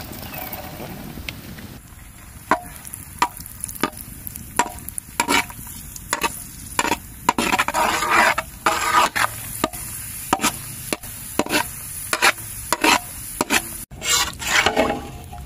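Cashews and raisins are added to a pan for semiya payasam and stirred, giving a run of sharp wooden clicks and taps against the pan over a low frying hiss.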